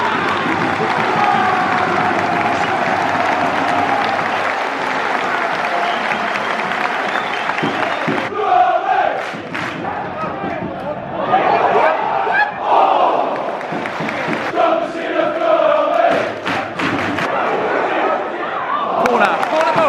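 Loud football crowd in the stands at an Oxford United versus Portsmouth opening-day match, a dense roar of cheering and chanting from the stadium that swells and surges throughout, with nearby voices mixed into the din.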